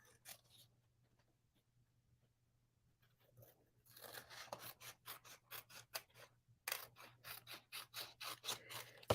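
Scissors snip around a paper greeting card, faint rustling at first, then a quick, steady run of close, crisp cuts with a short pause midway; no talking.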